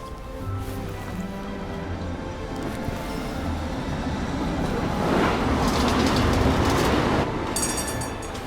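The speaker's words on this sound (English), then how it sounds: "But here's our tram." A tram in the video game Syberia pulls in and runs, a steady rumbling mechanical drone with rolling rail clatter that builds gradually into a louder hissing surge before easing off slightly.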